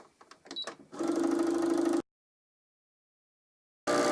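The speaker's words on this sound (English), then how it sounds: "You then position the bobbin winder across till it clicks, and you press the go button on your machine." A Brother INNOV-is 20 sewing machine gives a few light clicks, then a steady motor whir as it winds a bobbin for about a second. A pause follows before the whirring starts again, close and without speech.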